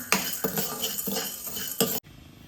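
Chana dal is dry-roasted over a slow flame for bhajani, a metal spoon clinking and scraping against the pan in quick repeated strokes, close and clear, stopping abruptly near the end.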